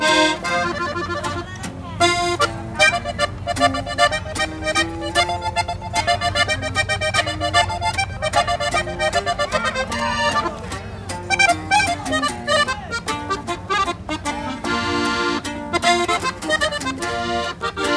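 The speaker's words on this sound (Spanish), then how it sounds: "Vamos a cantarles una canción muy bonita para ustedes con acordeón y bajo sexto." Lively accordion melody over strummed bajo sexto chords, playing continuously with a steady dance rhythm, close and fairly loud.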